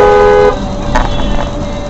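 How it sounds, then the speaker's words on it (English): A loud, sustained car horn blares in the opening half second, then traffic rumble and street noise continue at close range. "don't honk at me"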